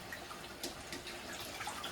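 Rice being washed in water, with soft, steady sloshing and trickling close by for a couple of seconds, fairly quiet.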